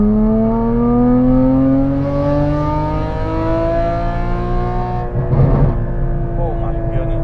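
A loud 2016 Porsche Cayman GT4 engine drones at high revs, pitch rising steadily, then a brief crackling burst as it eases off, heard from inside the car.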